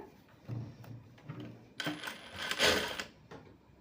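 An Usha Jack S2 sewing machine runs in short bursts of needle stitching, a brief stop-and-start hum early on, then a louder, busier run in the middle before it stops near the end, with no talking.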